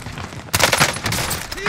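Rapid rifle fire from a Kilo 141 in a first-person shooter game, loud dense bursts starting partway through and continuing to the end, with a voice speaking briefly underneath.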